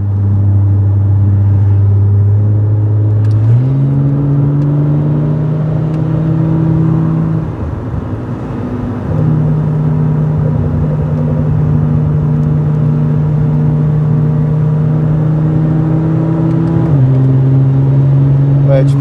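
A BMW fitted with a MaxxECU-controlled DCT gearbox accelerates from inside the cabin, its loud engine drone stepping through clean gear changes and dipping briefly before pulling again.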